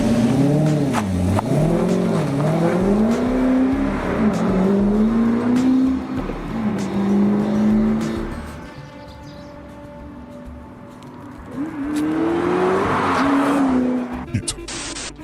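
The twin-turbo engine of a Hennessey Venom GT sports car revs hard and climbs through the gears, then eases off and surges again, loud and close.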